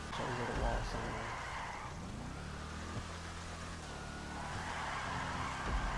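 A Bravado Gauntlet Hellfire muscle car in GTA V slides through a turn, its engine roaring steadily while the tires squeal in a long, sustained skid up close.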